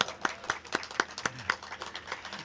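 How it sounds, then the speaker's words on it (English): A small audience at a park ribbon-cutting ceremony claps for a sponsor, with distinct, fairly close individual claps in a loose, rhythmic pattern that thins out toward the end. "I'd like to applaud St. Jude for that"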